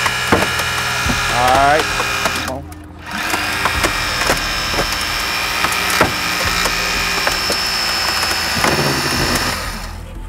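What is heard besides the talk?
AMKUS hydraulic rescue tool with four stage pump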